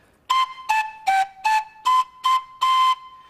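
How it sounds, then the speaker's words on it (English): Seven breathy, pure whistling notes played in short bursts with a slight pitch dip in the middle, the final note held longer, clear and close with no talking. "Listen to these panpipes."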